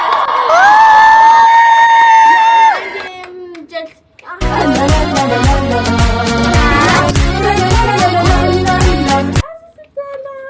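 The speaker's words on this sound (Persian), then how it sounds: "خب تشویق کنید دیگه" A group of schoolchildren in a classroom cheers for a girl with a long, loud shout, then breaks into sustained, dense clapping and cheering for several seconds before it stops abruptly.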